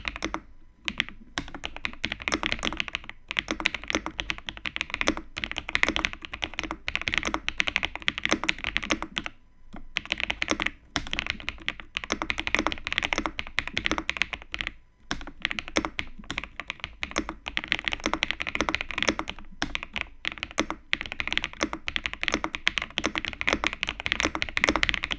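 Continuous typing on a slim Cidoo Stellar mechanical keyboard fitted with Epomaker Zebra switches and gradient Epomaker keycaps, a rapid close stream of crisp key clacks with brief pauses between bursts and no voices.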